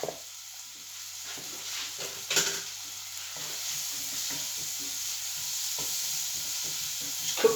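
Leek and garlic softening in a pan give a soft steady sizzle, faint and even throughout, with a brief louder stir of the pan partway and no talking.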